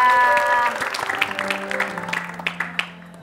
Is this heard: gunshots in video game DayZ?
no